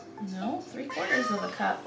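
A house cat meows a few times close by, the mewing cries overlapping with a person speaking in a home kitchen during baking prep.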